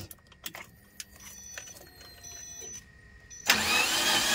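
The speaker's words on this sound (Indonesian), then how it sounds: "Di starter itu katanya ringan, seperti nggak ada beban Coba kita tes ya guys" Suzuki Carry with a fuel-injected engine that has lost compression, cranking on the starter: a few light clicks and ticks, then a sudden loud, even whir that spins freely without labouring.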